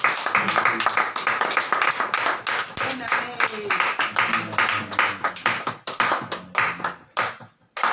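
A church congregation at a French-language New Year service claps continuously in a fast, dense, steady rhythm, with voices shouting and cheering over the clapping until it briefly thins out near the end.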